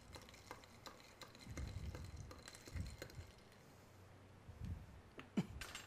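A spoon stirs fructose syrup into a glass of iced sea-salt coffee packed with ice, giving faint, close scraping and clinking in irregular bursts. The sound is quiet and no voice is heard.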